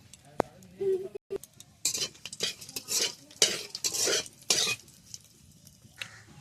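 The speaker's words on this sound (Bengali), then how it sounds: "তেল গরম হয়ে গেছে দিয়ে দেব পাঁচ ফোড়ন আর শুকনো লঙ্কা ফোড়নে" Panch phoron and dried red chillies hit hot oil in a kadai, giving several close, loud sizzling bursts broken up by metal spatula scrapes and clinks as the spices are stirred.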